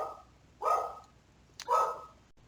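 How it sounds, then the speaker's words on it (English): Dogs bark at home, as a mailman makes his rounds: two separate loud barks about a second apart, somewhat distant, between quiet stretches. "We'll see if they've stopped barking."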